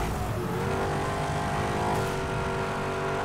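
A Porsche race car in Need for Speed Hot Pursuit holds a steady, sustained engine drone at high revs, close and continuous, with a slight pitch shift partway through and no talking.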